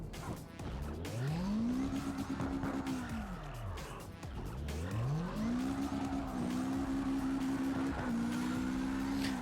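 A car drifts in a driving video game, its engine note repeatedly swooping up and falling back as it revs through each slide. Hissing tire noise runs loud and continuous underneath.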